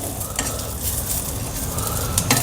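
Mustard and cumin seeds sizzle and crackle steadily in hot oil, close up, with occasional scrapes of a spoon stirring the pan.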